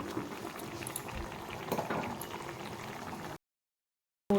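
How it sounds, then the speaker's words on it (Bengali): Egg and potato curry gravy bubbling steadily in a pot, a close, continuous simmering hiss with soft pops, alone before a sudden cut to silence. "তো আমি পাঁচ মিনিটের মতো আর একটু ফুটে নেব ঝোলটাকে"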